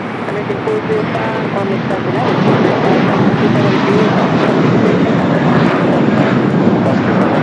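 A jet taxis at LAX, a Philadelphia-to-Atlanta flight, its engines giving a steady, loud broadband roar that swells slightly after the first couple of seconds and holds, with faint voices underneath.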